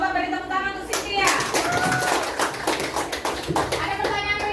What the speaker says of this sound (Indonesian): Coba beri tepuk tangan untuk Cynthia.